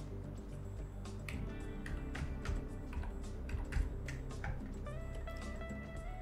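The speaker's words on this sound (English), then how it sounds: "So just type the software or app name." Fingers tap out an app name on a computer keyboard, a quick uneven run of crisp key clicks over a low background hum, with no speech.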